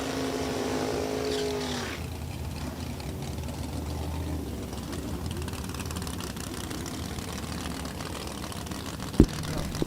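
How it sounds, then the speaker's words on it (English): Drag racing cars, a Ford Mustang and a Dodge Dart at a Super Street elimination round, roar loudly at launch and then fade into a distant droning engine sound down the strip, with a sharp click near the end. "Mark Smith's going to give it a ride. His Mustang in the left lane. Paul Brown's dart over here on the right-hand side"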